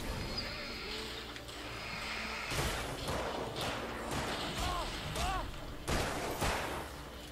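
Gunfire in the video game Alan Wake: several sharp bursts of shots ring out over a few seconds against a steady game background, with a short pause between volleys.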